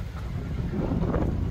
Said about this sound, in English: It is a windy February